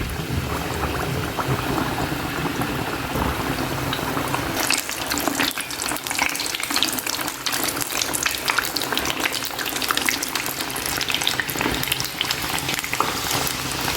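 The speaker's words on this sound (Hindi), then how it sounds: "इसलिए मैं बिल्कुल लो फ्लेम पर फ्राई कर रही हूँ।" Chicken pizza kachoris fry in oil over a low flame, a dense, steady bubbling sizzle that fills the whole stretch, close and alone with no talk.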